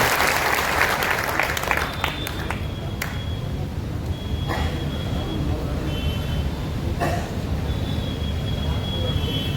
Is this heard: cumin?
no